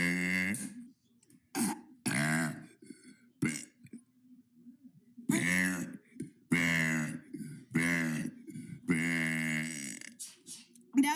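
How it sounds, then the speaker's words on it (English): A person lets out a series of loud, drawn-out burps, several belches separated by short quiet pauses, close and clear with no other voices. "That was day 53 of burping for 100 days."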